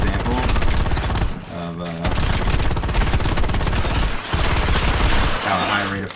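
Rapid automatic weapon fire from a high rate of fire gun in the sci-fi shooter Firefall, dense continuous bursts broken by two short pauses, with someone talking over the shooting.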